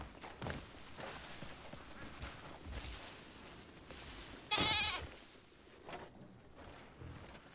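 A single short goat bleat from the video game Crimson Desert rings out mid-clip over a low, busy outdoor background with faint rustling and steps.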